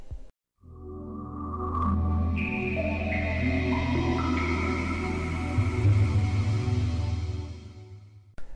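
Sega Dreamcast console startup sound: a swelling, layered synthetic chime with rising sustained tones that build over several seconds, then fade out, heard alone and fairly loud.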